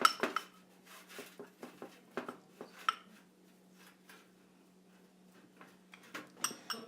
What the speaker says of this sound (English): you're going to have to do a lot of stirring with this recipe.